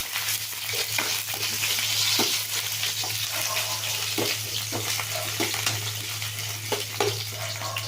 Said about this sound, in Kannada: ಈರುಳ್ಳಿ ಹಾಕ್ತೀನಿ ಈರುಳ್ಳಿ ಚೆಂದ ಫ್ರೈ ಆಗಬೇಕು